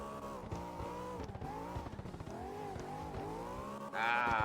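A BMW E92 in the CarX Drift Racing game accelerating hard and drifting, its engine note climbing and dropping through repeated gear changes and revs, then swelling with a sharp, loud tire squeal at the end.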